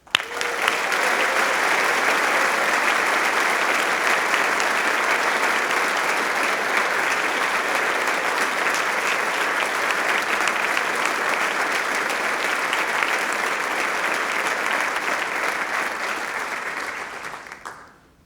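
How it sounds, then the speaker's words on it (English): Large crowd at a medical faculty university spring convocation applauding the graduates, a loud, dense, unbroken roar of clapping that holds steady for a long stretch before tapering off quickly at the end. "Please join me now in congratulating all of the graduates with your applause."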